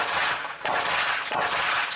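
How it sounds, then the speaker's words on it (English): Gunshots ring out during a mass shooting in Farmington, captured in body camera footage: two dull, distant cracks about half a second apart, heard under a constant loud wash of wind and outdoor noise. "Followed by more gunshots."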